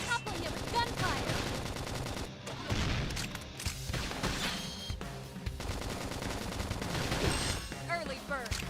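Gunfire rattles in the Xenoblade video game in quick overlapping bursts and booms amid busy battle sounds and music, with a player talking over the action.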